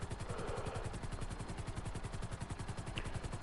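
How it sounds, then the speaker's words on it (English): A video game helicopter engine running rough, a steady rhythmic low thumping of rotor and engine that holds loud and even throughout with no voices over it. "It sounds like my helicopter's running a little rough right this moment."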